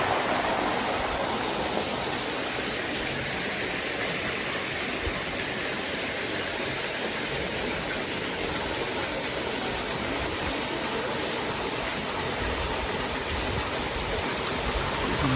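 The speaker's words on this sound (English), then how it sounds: "It's so nice to see water flowing in some of these ancient places." Water flows continuously and steadily from an ancient fountain at Sagalassos, a loud, even rushing splash, with no voices.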